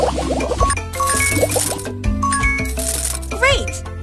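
Splashing water and bubbly, tinkly effects from a children's jungle animal salon game as a cartoon animal's legs get washed, layered with chimes and a chirpy voice over cheerful game music.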